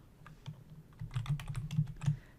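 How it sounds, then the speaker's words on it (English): Close, clattering keystrokes on a computer keyboard as a matrix-inverse formula is entered into an Excel spreadsheet, tapping in irregular quick bursts that grow denser toward the end, with no talking. "I'm going to begin typing my command"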